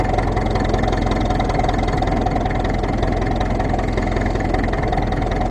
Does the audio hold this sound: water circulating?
no